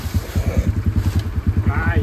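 A dirt bike engine stuck in gear chugs in a rapid, steady low-pitched pulse close by, with a voice speaking over it.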